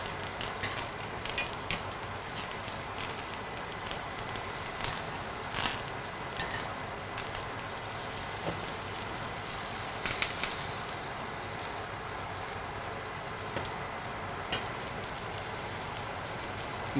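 Steak in a pan on a stove gives a steady, even sizzle that runs unbroken from start to finish, with faint scattered crackles over it.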